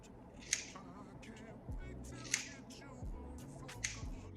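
Scissors cut straight across wig hair, giving three crisp, close snips spaced about a second and a half apart, with soft rustling and handling noise in between.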